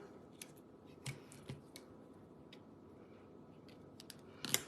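Scissors snip through material in a quiet room, a handful of crisp, separate cuts spaced irregularly, with a louder cluster of snips at the end.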